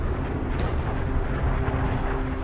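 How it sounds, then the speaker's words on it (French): A supernova explosion sound effect rumbles as a dense, steady roar of broadband noise, loud and sustained with no voices over it. "Les couches extérieures sont expulsées en une explosion cataclysmique."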